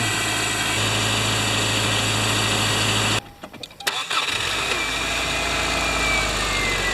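A 2007 Subaru Forester fitted with a starter from a 2003 Outback cranks briefly and fires, then settles into a steady, loud idle, with the engine close by.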